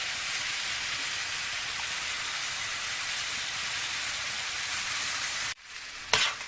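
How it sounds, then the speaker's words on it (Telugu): Ginger-garlic paste stirred into bitter gourd pieces frying in a pan, giving a loud, continuous sizzling hiss, then a sudden break and a couple of sharp clatters of the spoon near the end. "అల్లం ఎల్లిగడ్డ పేస్ట్ని వేసుకొని కలుపుకోవాలి"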